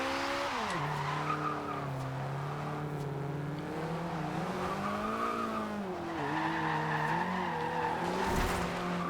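A Toyota AE86 on stock tires in Forza Horizon 2 launches in third gear, its engine droning and rising in pitch while the tires squeal and skid steadily throughout, loud and close with no talk.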